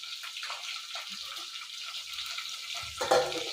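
Rasam cooks in a pot on the stove with a faint, steady sizzle and soft stirring, ending in a brief, slightly louder clatter.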